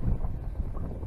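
Wind buffets across open water while someone fishes for bass from a boat in winter, making a steady, close, low rumble with no voices.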